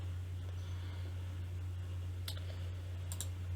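A single mouse click on the Apply button in OBS Studio software, a faint sharp tick followed by a second pair of quick clicks, over a steady low electrical hum in a quiet room.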